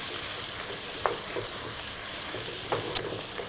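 A spoon stirring chopped tomatoes into a pan of African-style beans, soft close scraping and a few light clinks over a constant low sizzle, with no talking.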